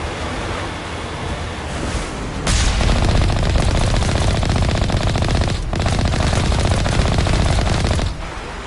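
Enemy artillery gunfire in Mass Effect on Insanity difficulty, a loud continuous rattling barrage that starts moderately, jumps sharply louder after a couple of seconds, briefly cuts out, then resumes before dropping off near the end.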